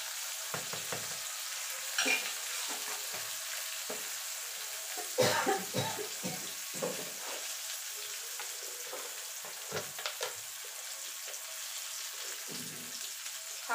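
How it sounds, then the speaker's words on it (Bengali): Bitter gourd fries softly in a pan with turmeric and salt, a steady quiet sizzle broken by occasional scrapes and clacks of stirring. "উচ্ছেটাকে একটুখানি ভাজা ভাজা করে নেব,"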